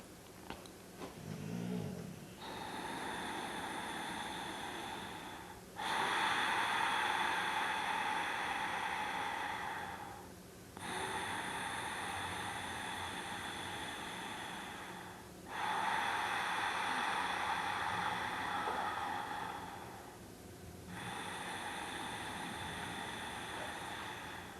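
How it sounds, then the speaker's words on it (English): Ujjayi yogic breathing in a pranayama practice, a loud, hissing ocean-like breath heard alone and up close, repeating in long even cycles of slow inhales and exhales with brief pauses between them. "So Ujjayi breath can actually sound quite loud. I'm going to demonstrate a couple of breaths for you and you should be able to hear it."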